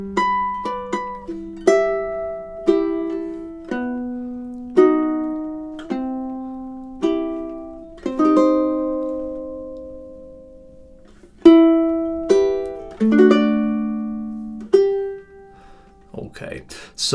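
Solo ukulele plucks the measures of a song one note at a time, a clear and close melody of ringing notes that decay between plucks, with a brief quiet pause and a soft rustle at the end.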